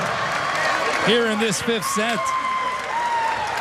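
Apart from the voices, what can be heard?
crowd cheering and applauding at volleyball match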